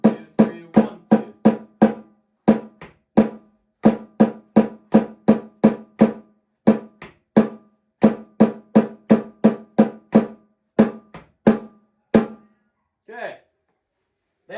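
A snare drum plays a steady run of crisp, evenly spaced eighth-note strokes, then slower quarter-note hits, close and loud with short silences between strokes.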